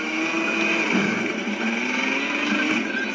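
A motorcycle engine in the game Riders Republic runs at top speed near 130 km/h, a steady high-revving buzzing drone held loud and close without a break, with no talking over it.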